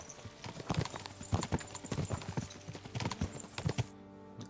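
Hooves of a horse clip-clopping on the ground in Kingdom Come: Deliverance 2, a steady stream of close, distinct hoof strikes that falls away abruptly near the end.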